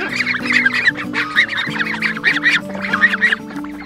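Ducks around a wooden duck tractor give repeated rhythmic quacks and honking calls in several bursts, loud and close, with no talking.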